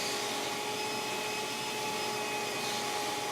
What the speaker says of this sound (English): An easy way to clean the tail is to insert the entire tail into the vacuum.